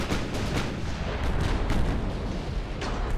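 Eleven-inch naval guns fire in a battleship engagement in Ultimate Admiral: Dreadnoughts, a dense run of heavy booms and rumbling blasts that overlap continuously for several seconds with no talk.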